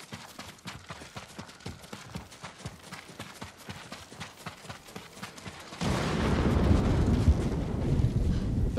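Steady horse hoofbeats clip-clop in a quick, even rhythm in the video game Ghost of Tsushima, then a loud broadband rush of wind or rumble takes over for the last few seconds.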